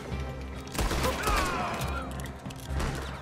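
Gunfire in a Red Dead Redemption 2 shootout crackles in a few heavy bursts over a dense background of game noise, loud and close.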